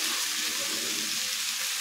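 Spices such as turmeric and cumin powder hit hot oil with pumpkin and potato, giving a dense, steady sizzle with faint stirring underneath, brief and fairly loud, with no voices.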